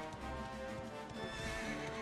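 A horse in Dragon Quest XI S whinnies with a long, wavering neigh over a steady clip-clop of hooves, loud and close, with no one speaking.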